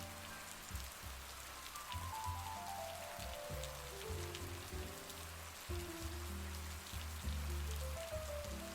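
Steady, relentless rain falls on surfaces in a small town, a dense continuous patter at even loudness throughout, with soft music playing underneath and no voices.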